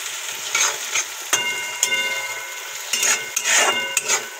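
A spoon stirs and scrapes a poha mixture in a pan, giving repeated irregular clinks and scrapes over a faint sizzle, close and clear.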